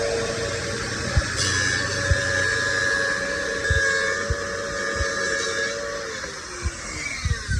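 Makita CA5000 groove cutter running on an aluminum metal panel, a steady high whine with a sustained tonal pitch, punctuated by scattered clunks and knocks and a slight pitch drop near the end.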